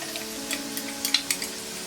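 Green chilies dropped into a pan of fried onions and whole spices for vegetable tahari, giving a steady close sizzle and frying hiss with a few brief crackling bursts, no talking.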